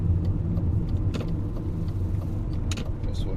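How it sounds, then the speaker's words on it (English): A BMW E39 converted to electric drive accelerates up a slip road onto a motorway, a steady low road rumble and tyre roar rising faintly inside the cabin with a few light rattles. "So I'm going to push my throttle now."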